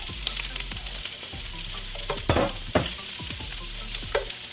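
Ingredients for ginger salmon and green beans stirred together in a hot pan, a steady close sizzle broken by a few scraping stirs and clatters.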